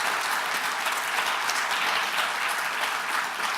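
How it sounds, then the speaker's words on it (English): Audience applause at an award ceremony, a steady, dense wash of clapping from a crowd that holds at even loudness throughout without a break. "Let's give a big round of applause."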